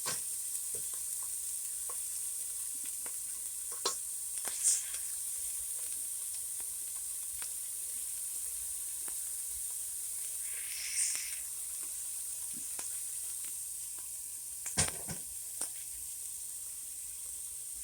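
Onions cooking in a pot for Zuppa Toscana, a faint, steady soft sizzle with a few clinks and scrapes of stirring scattered through it, and no talking.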